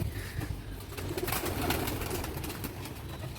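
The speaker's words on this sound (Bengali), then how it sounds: "পায়রাগুলো কি করছে দেখো দরজার মধ্যে ঝুলছে" Pigeons cooing at a house door, soft repeated throaty coos close by over a low room background.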